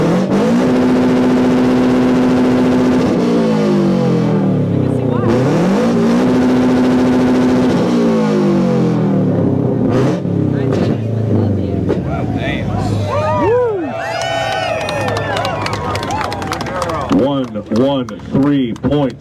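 A 2013 Subaru BRZ with a loud aftermarket exhaust revs hard at a car meet, with two long held revs that rise and drop before shorter blips, and people talking and cheering close by as the engine settles.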